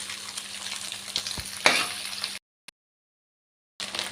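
Chicken and egg frying and being stirred in a pan for restaurant-style chicken fried rice, a close, steady sizzle with scraping strokes, then a sudden cut to near silence before the frying returns.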